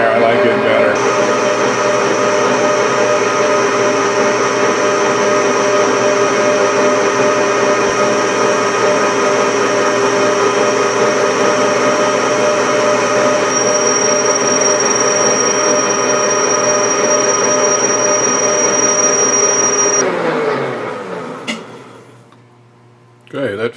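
Grizzly G4003G metal lathe turning with a high-speed steel bit, a loud steady whine with strong tonal ringing that runs unbroken for about twenty seconds, then spins down and fades near the end.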